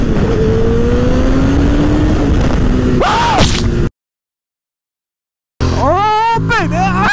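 A motorcycle launches hard, its engine loud and close as the revs climb steeply, then the sound cuts out briefly before another rising run of revving returns.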